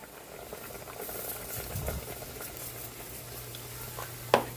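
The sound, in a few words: paksiw na isda fish stew boiling in a covered pot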